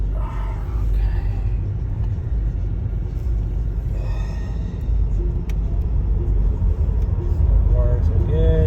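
A Tesla Model S Plaid fitted with new wheel spacers cruises along a road, giving a steady low tire-and-road rumble throughout, with voices talking over it.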